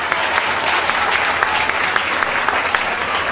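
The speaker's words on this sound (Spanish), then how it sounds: "Aplausos para los árbitros, muy bien." Loud, dense applause from an audience at an ecumenical debate between pastors and a Catholic priest, honoring the referees, a continuous close roar of clapping.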